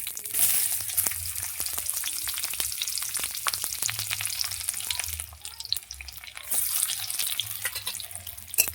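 Onions frying in oil with a steady close sizzle and frequent scrapes and taps of a spatula stirring them, louder at the start and again later, with a softer patch in between.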